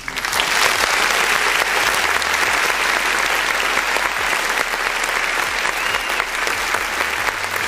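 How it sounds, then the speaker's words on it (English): Dense, steady hand-clap applause from many hands, loud and continuous for the whole stretch without a break. "All the hand claps for all of the new subscribers and new followers."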